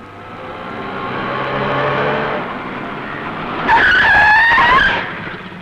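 An auto rickshaw skids to a sudden stop with a loud, close tire squeal that rises sharply after a rumbling approach, in a busy street scene.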